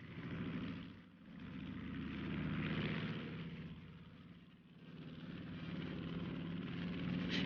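Propeller engines of P-40 Warhawk fighter planes taking off from an aircraft carrier deck, a loud steady droning roar that swells and fades in waves, with no talk.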